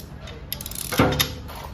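Ratchet tightening bolts while a car engine is mounted in a repair shop, a short run of metallic clicks with a clunk of metal parts, close and fairly loud against workshop background.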